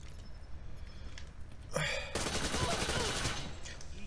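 A nail gun firing in a multiplayer shooter video game, a rapid burst of sharp repeated shots that starts suddenly and fills the last couple of seconds with dense crackling.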